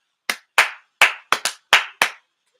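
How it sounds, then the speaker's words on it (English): Seven sharp hand claps in an uneven rhythm, loud and close with clean silence between them, no talk. "clap your hands"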